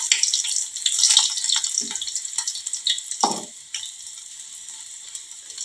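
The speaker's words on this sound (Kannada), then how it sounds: "ಎಣ್ಣೆ ಒಳಗೆ ಭಾಳ ಫ್ರೈ ಆಗಬೇಕು" Green chillies frying in oil give a steady, fairly close high sizzle, with a brief stirring clatter partway through; no one speaks.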